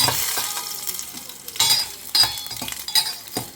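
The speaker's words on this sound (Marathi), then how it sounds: "जस्ट थोडेशें हांव कढीपत्ता घालता. लसूण घालता आनी सुकी मिरसांगो घालता. मातशें ताका फ्राय करून घ्या." Curry leaves, garlic and dried red chillies crackle and spit in hot oil, close and fairly loud, with a few sharp clinks and scrapes of stirring.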